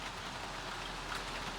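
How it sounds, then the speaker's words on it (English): Steady rain falls over a city, a soft, even hiss of drops without gusts or breaks, moderately quiet and unchanging throughout. "Rain had settled over the city"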